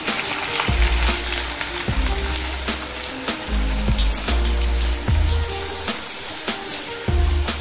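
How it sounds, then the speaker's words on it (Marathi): Finely chopped onion frying in oil for a dry Bombay duck masala, a steady dense sizzle with repeated low stirring thumps about every second, close and fairly loud, no voices. "त्याच तेलामध्ये आता बारीक चिरलेला कांदा टाकूया।"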